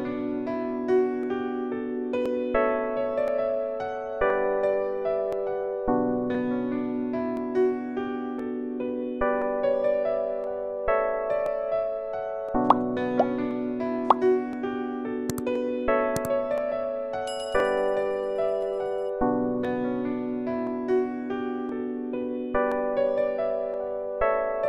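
A chill trap piano beat built on an MPC X plays on its own: layered, mellow piano chords loop over a steady rhythm with sparse percussive hits, with no talking.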